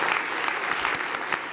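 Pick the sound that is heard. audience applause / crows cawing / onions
audience applause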